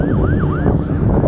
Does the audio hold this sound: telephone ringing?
no